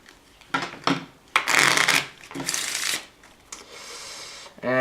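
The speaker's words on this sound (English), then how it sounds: "Spectator shuffles the cards." Riffle shuffling of playing cards in several bursts, with cards rippling and snapping together, followed by a squared-up deck; close and fairly loud, no talking.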